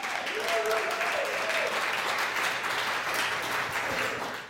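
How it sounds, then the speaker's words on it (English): Sustained audience applause for visiting artists at an evening artist talk, a dense, steady clapping from many hands over four seconds with a brief tonal voice or sound early on, tapering slightly at the end. "Let's give them a big round of applause."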